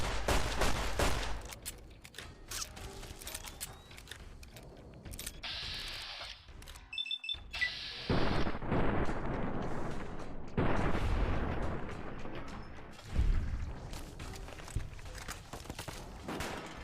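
Gunfire in Fallout: New Vegas, Old World Blues, with repeated loud bursts and rapid volleys through most of the stretch, broken by a brief near-silent gap and a few sharp electronic tones.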